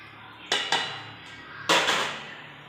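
Caramelised sugar scraped and poured into a metal vessel, with three sharp metallic clanks and knocks, two close together then one louder strike, over a quiet kitchen background.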